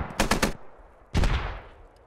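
Automatic machine gun fire in the military shooter game Squad, two loud close bursts of rapid shots about a second apart, each trailing off into a fading echo.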